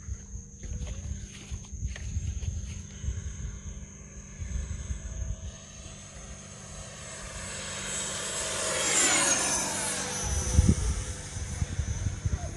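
A Freewing L-39 Albatross 80mm electric ducted-fan RC jet flying, a steady high-pitched whine that swells louder as it passes overhead and then fades, heard from the ground over wind noise.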